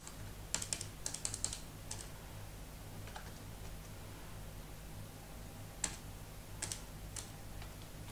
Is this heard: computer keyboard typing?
yes